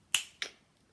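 Two crisp finger snaps ring out close by, about a quarter second apart, with nothing else around them.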